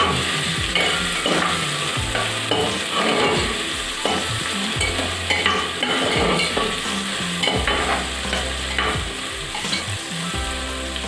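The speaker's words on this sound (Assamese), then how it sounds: "মই ইয়াতে আদা নহৰুৰ পেষ্টখিনি যোগ কৰি দিম আৰু আদা নহৰুৰ কেঁচা গোন্ধটো নোযোৱালৈকে মই অলপ সময় এইখিনি লৰাই থাকিম" Ginger garlic paste frying in hot oil while being stirred, a busy close sizzle broken by repeated scraping and clinking of a spoon against the pan, no voices.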